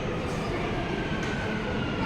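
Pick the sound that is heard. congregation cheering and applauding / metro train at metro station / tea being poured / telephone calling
metro train at metro station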